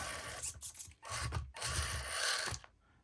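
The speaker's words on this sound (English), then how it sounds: "So right now we are rubbing the bedpan or the belly" A small, 12-year-old Miclaw Miniqlo RC crawler scraping its belly over an obstacle: close, harsh grinding rasps in three bursts separated by short pauses, then trailing off.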